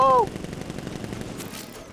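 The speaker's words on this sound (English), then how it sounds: "Open fire! Shoot everything!" Gunfire in the video game Batman: Arkham Knight, a brief electronic tone followed by a rapid, dense burst of automatic shots rattling continuously for about two seconds.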